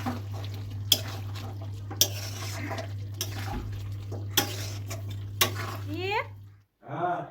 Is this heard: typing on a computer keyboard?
no